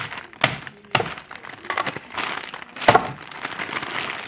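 Bag of rock-hard frozen carrot slices being handled close up, with crinkling plastic, sharp cracks and thunks of frozen pieces knocking together.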